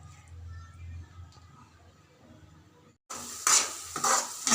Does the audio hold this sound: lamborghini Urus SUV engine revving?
no